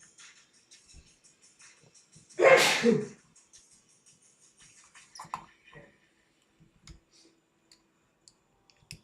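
A single loud sneeze bursts out close to the mic during a quiet live futures-trading session, with sparse mouse clicks and ticks before and after it.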